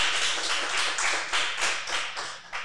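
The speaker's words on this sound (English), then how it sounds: "You can clap that up there." A small group claps in rhythmic bursts, close and fairly loud, with steady pulses of clapping and no talk over it.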